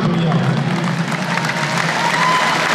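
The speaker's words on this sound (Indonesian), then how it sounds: "Tepuk tangan untuk beliau." A crowd at an Indonesian political gathering applauds and cheers, a dense wash of clapping with a voice speaking over it and faint shouts mixed in.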